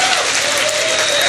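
An audience at a mosque committee event breaks into steady, dense applause, a continuous roar of many hands clapping close by with no pauses.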